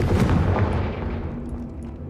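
Fiery Confringo spell blast cast in the Hogwarts Legacy video game, a loud booming burst at the start that fades into a long rumbling decay.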